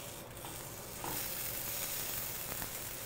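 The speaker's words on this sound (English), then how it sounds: "Nick, how are you cooking plain Bonnie's salmon in a plain Bonnie's pan?" Salmon sizzling in a frying pan gives a steady broadband hiss, faint and continuous, growing slightly louder partway through, with no voices.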